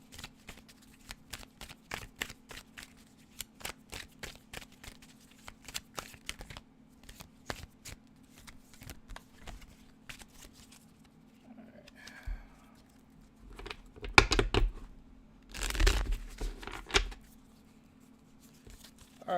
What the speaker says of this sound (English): Give this deck a nice, good old shuffle.